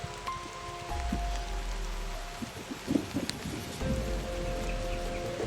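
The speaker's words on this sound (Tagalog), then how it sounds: "Lakas ng ulan." Heavy rain patters steadily on surfaces outdoors, a continuous hiss with scattered louder drops and a low engine-like hum that comes and goes beneath it.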